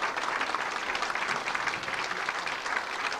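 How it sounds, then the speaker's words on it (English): Steady applause from a music hall audience fills the room at a final-night show, dense and continuous throughout with no gaps. "I suggest you stand up and give them a round of applause."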